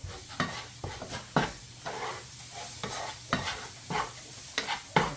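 Taco seasoning is worked into a sizzling burrito skillet, with a spoon scraping the pan in a quick, uneven rhythm over a soft, steady fry, close up and with no one talking.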